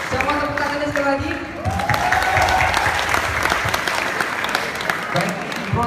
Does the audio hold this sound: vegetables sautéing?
no